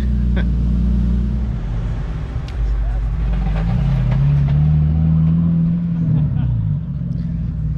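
A loud Nissan Skyline R34 engine runs steadily close by, a deep continuous rumble that swells as it revs up midway, then settles back to idle.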